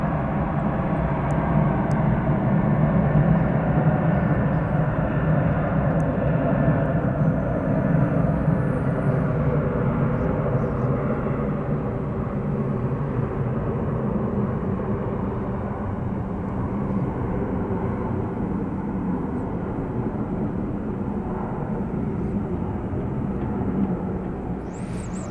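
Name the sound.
Qatar Airways Boeing 777 on the move at DFW Airport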